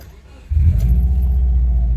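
A Subaru Forester XT engine catches about halfway through, jumping from near-quiet into a loud, steady, smooth low idle, with a faint jingle of keys beforehand.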